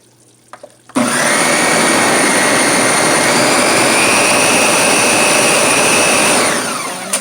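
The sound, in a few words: blender running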